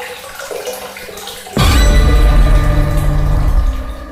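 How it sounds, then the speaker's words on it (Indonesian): Tap water gushing into a tub that is filling up, starting abruptly after a quieter moment and then running loud, steady and close before easing slightly at the end, with no talking. "gadis itu langsung memutar keran karena air yang ditampung sudah penuh"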